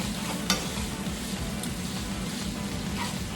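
Sausage and vegetables stirred in a hot pan, a steady soft sizzle with scattered scraping clicks from the utensil, fairly quiet and close, with no talking.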